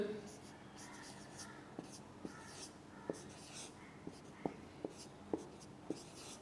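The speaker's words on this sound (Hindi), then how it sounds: "मैं लिख देता हूं इधर" Writing on a board during an English lecture: sharp, evenly spaced taps and scratchy strokes over steady room noise, partly under a low voice.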